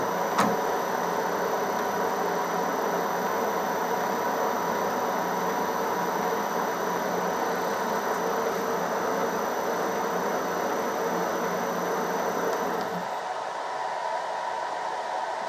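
A 16U04P lathe turns plastic gears at low spindle speed, giving a steady, loud mechanical whir with a thin high whine that runs unbroken before cutting off abruptly near the end.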